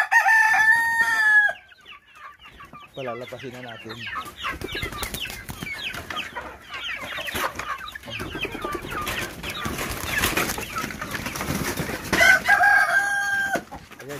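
Chickens cluck and chatter close by while roosters crow loudly at the start and end, a busy farmyard flock at feeding time, with someone briefly speaking.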